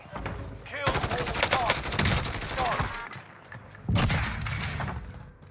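Gunfire crackles through a video game battle royale match, bursts of rapid shots packed together in two main volleys with brief pauses between, loud and close, while a voice speaks over parts of it.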